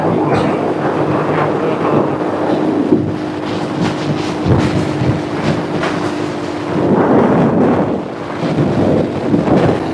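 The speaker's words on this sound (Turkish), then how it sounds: "Rüzgarın karşımda esiyor." Wind roars steadily against a rider on a 110cc Cup motorcycle climbing a mountain road, a loud continuous buffeting rush that swells and eases over time with a low engine hum beneath it.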